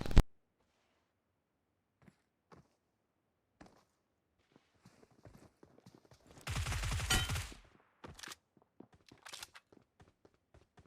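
Gunfire from a PUBG battle, a few isolated distant shots followed by a dense close burst of rapid automatic fire lasting about a second, then scattered single cracks and near silence, with no talking.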